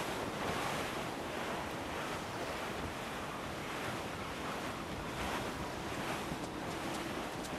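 Wind and ocean waves while sailing in the video game Assassin's Creed Black Flag, a dense, steady roar of surf and gusting wind at sea, loud and unbroken, with no voices.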